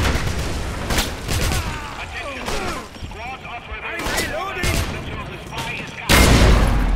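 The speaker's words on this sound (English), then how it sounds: "Grenade." A grenade goes off in the 2009 Wolfenstein game amid bursts of gunfire, sharp loud blasts with a heavy booming thump near the end, and a voice talking underneath.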